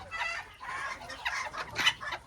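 A bearded Blue Motley rooster clucks in a farm pen, several short loud clucks in a row, close by with no voices.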